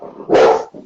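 A pet dog lets out a single loud, close bark lasting about a third of a second, with softer low vocal sounds just before and after.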